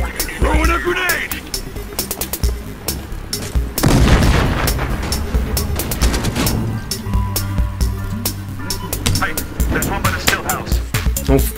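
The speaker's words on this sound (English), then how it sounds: "Throwing a grenade!" Battlefield Hardline firefight with a grenade blast around the middle, dense gunshots and booms throughout, loud and close, with voices talking underneath.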